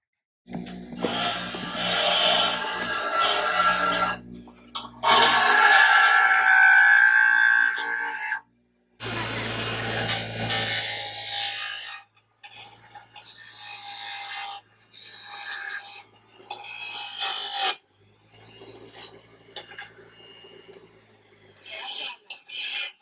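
A ground-down, modified wrench works a bolt on an old barn-find Ford tractor, giving repeated close rasping, scraping strokes in short bursts separated by pauses.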